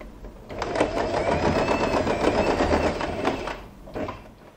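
Sewing machine running a continuous stitch along a satin scrunchie, a fast even mechanical whirr for about three seconds, then a short burst after a pause, close and alone.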